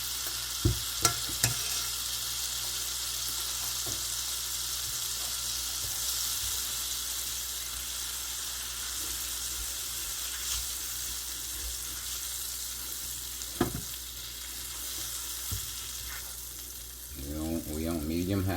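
Food sizzles steadily in a skillet on medium-high heat for a chopped roast with gravy, with occasional clinks of stirring and a brief spoken interjection near the end.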